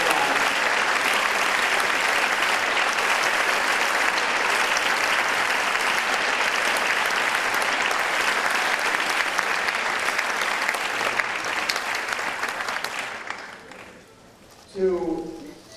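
A festival audience applauds loudly and continuously at a 1999 Tron Q&A, a dense sustained wash of clapping that fades out near the end as a voice begins.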